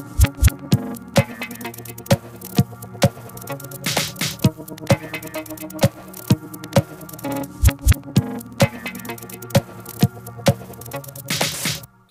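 A break section of an electronic music track, its energy lowered by an octave drop, runs as a sparse groove of sharp percussive hits over humming synth layers, ending in a brief noisy swell, with no voices.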